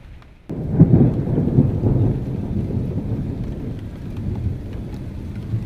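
Heavy rain pours down steadily with low rumbling thunder, starting abruptly after a brief quiet moment and continuing as a loud, dense wash of sound close by.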